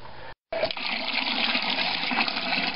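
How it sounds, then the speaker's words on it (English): Water pours steadily into a pressure canner for canning wort, a continuous splashing gush after a brief break at the start. "So that's about 5 liters of water I put in there now."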